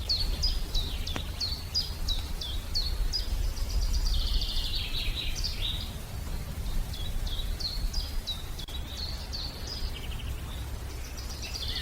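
Wild birds at a spring fishing spot in Russia give repeated high chirps in quick trills that come and go over a steady outdoor rumble of wind and water, with no voices.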